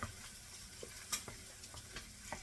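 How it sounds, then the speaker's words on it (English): Onions are stirred into Spam and baked beans in a frying pan, a faint steady sizzle with soft scrapes and clicks of the utensil against the pan, close and quiet, with no talking. "So I put the onions in there. And so I'm going to stir it all in together."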